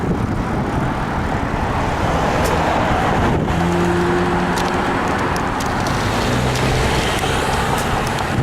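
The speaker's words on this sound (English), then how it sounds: "we got some rush hour traffic, as you can hear" Steady rush-hour road traffic heard from a bicycle, a continuous broadband roar of cars passing nearby with engine hum, loud and unbroken throughout, no talking.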